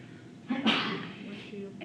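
A single sharp sneeze bursts out close by during a math lecture, with someone talking before and after it.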